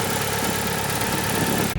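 A turbocharged Mitsubishi Evo 9 engine idles close by, a steady, loud, continuous rumble with mechanical vibration, holding unbroken until it cuts off abruptly at the very end.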